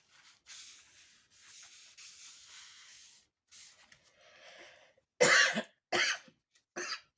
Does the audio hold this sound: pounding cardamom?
no